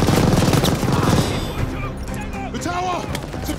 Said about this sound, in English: Suppress the MG! Enemy MG!